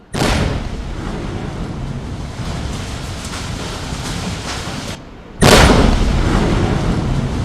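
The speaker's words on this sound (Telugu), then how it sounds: "ఉగ్రవాది ఇళ్లుని ఏ విధంగా పేల్చేశారో ఆ విజువల్స్ ని మనం చూస్తున్నాం" Blasts demolishing houses in Kashmir give loud, sustained roaring rumbles heard at a distance, with a brief drop before a second heavy burst that keeps rolling on without speech.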